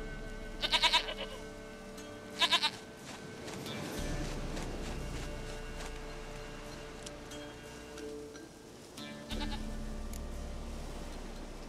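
A goat bleating in The Witcher 3: Wild Hunt, two short quavering bleats close together near the start and another later, over a steady ambient wash of game sound.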